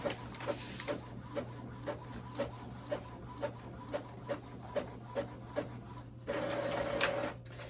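An Epson EcoTank 2800 printer feeds regular printer paper, giving a steady hum with regular rhythmic mechanical clicks about every half second and a brief louder whirring burst near the end.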